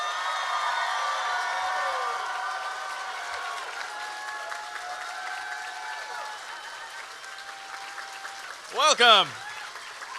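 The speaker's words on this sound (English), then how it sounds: "keep that thunderous applause going for the coolest man in the galaxy" Thunderous applause from a convention audience at a Hal-Con 2013 Q&A fills the hall, sustained and dense, with a brief spoken welcome rising over it near the end.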